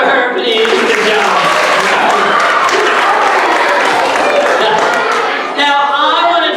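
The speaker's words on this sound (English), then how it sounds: "Can you guys clap for her" Children at a science show clap and cheer loudly for a girl, a dense, steady burst of applause mixed with excited crowd voices lasting several seconds.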